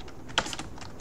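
Quiet keystrokes on a computer keyboard during home router network setup, a few soft clicks with one sharper tap, over low room noise.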